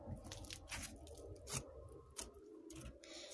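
Butter slime packed with foam beads being squeezed, giving a run of soft, quiet crunches and squishy pops in close, irregular bursts with no talking.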